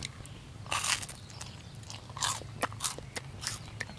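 Crisp bites and crunchy chewing of melon-flavoured cheese, eaten as a dessert on a rainy solo camping trip at a ranch, with several close bursts of crunching separated by short pauses.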